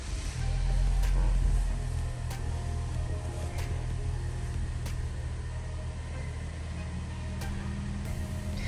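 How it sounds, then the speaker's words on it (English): Engine of a 2023 Toyota Highlander LE SUV running after a push-to-start, a steady low idle rumble heard from inside the cabin, with faint periodic chimes and no talking. "Alright, now that the engine is running and the dashboard's lit up"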